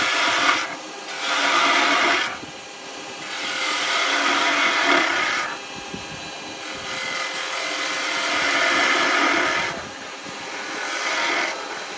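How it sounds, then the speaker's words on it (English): A 3/4 inch spindle gouge cuts a spinning wooden top on a lathe, giving a steady, loud rasping hiss that swells and eases in long passes as the tool moves along the wood. "I'm just going to use one of my spindle gouges"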